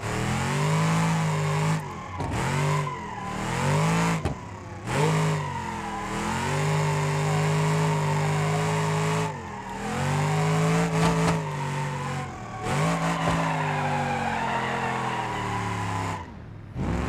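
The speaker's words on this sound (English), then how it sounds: "Yeah, it drifts pretty good." Game car in BeamNG.drive drifting, its engine revving hard and rising and falling in pitch with repeated brief tire skids, loud and close throughout with no talking.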